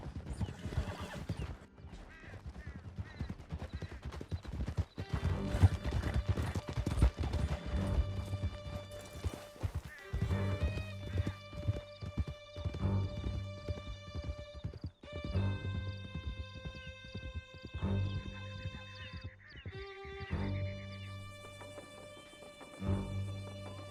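Horses gallop in Red Dead Redemption, a rapid, loud clip-clop of hooves pounding steadily over rough ground, with a whinny mixed in and music and game effects layered over the riding.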